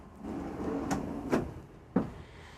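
A cedar drawer in a 2023 Newmar Essex 4595 motorhome slides with a soft rumble, then gives a couple of sharp wooden knocks as it closes, close and alone without talk.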